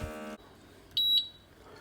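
A short, high electronic beep from a vacuum sealer sounds twice in quick succession over a faint hum, after a brief mechanical whir stops.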